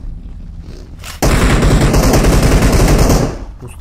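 Sustained automatic gunfire in the mobile battle royale game PUBG Mobile on the Erangel map, a loud dense burst of rapid shots starting abruptly and rattling on for about two seconds before cutting off.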